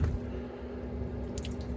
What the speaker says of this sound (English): So let's give it a little bit of water.